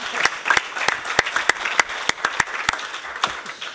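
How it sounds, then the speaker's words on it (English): A small audience applauds at a presentation, with sparse, distinct hand claps ringing out in an uneven rhythm for a few seconds, fairly close and without voices. "there's an applause."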